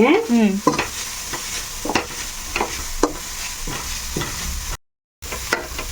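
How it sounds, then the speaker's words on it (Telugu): Grated carrots frying and being stirred in a pan for carrot rice: a steady close sizzle broken by repeated scraping stirs, with a brief silent gap near the end. "మగ్గాలి కాసేపు, చక్కగా వేపుకోవాలి"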